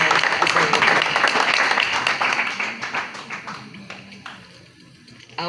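An audience claps at a lecture, a dense wash of applause that starts full and loud, then thins and fades toward the end with scattered claps remaining.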